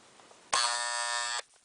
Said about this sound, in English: There's your alarm.